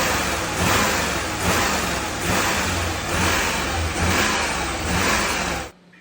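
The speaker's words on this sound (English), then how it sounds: "Now, this is a Blackpool engine." A rare 1997 Bentley Blackpool engine, a Bentley and Cosworth design, revs in repeated swells, its loud, steady roar rising and falling about every second and a half before cutting off abruptly at the end.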